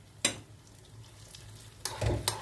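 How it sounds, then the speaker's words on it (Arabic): Onion fries in a hot pan for Palestinian rishta with lentils, a steady soft sizzle broken by a few sharp scraping stirs and clatters, close up and without talk. "البصلة هيا على النار بتتقلى"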